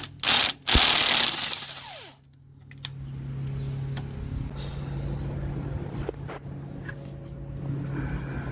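A ratchet wrench clicks in short, close bursts while removing 17mm nuts from the transmission mount of an Acura Integra, followed by a steady low mechanical hum in the garage.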